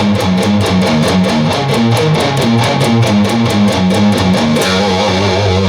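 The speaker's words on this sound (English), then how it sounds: "But the rest of this is palm muted." Electric guitar plays the palm-muted riff from a song, a steady chugging run of tight, choppy, damped notes, loud and continuous with no talking.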